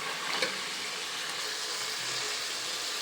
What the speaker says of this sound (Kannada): ಸೊ ಇದು ಇನ್ನೂ ಒಂದು 2 ಮಿನಿಟ್ಸ್ ಎಣ್ಣೆಲೇ ಫ್ರೈ ಆಗೋದಕ್ಕೆ ಬಿಡೋಣ